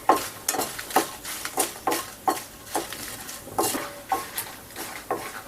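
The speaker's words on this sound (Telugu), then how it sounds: "ఇదిగోండి, ఎండుమిరపకాయలు కూడా వేగిపోతున్నాయి, ఆల్మోస్ట్ వేగిపోయినాయండి." Dried red chillies frying in oil for a chutney, with repeated stirring scrapes of a spoon in the pan over a steady crackling sizzle, close and fairly loud.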